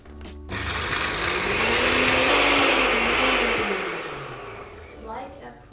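A blender runs loud and steady, whirring leek parts to a purée in a home kitchen, motor pitch rising and dipping slightly as it works before easing off near the end; no talk over it.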